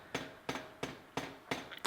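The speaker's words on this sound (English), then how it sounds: "for drawing a taper I am working the thin ends more than the thick ends" A hammer strikes an iron shaft on an anvil to draw a taper, five sharp metallic blows in a steady quick rhythm, close and distinct.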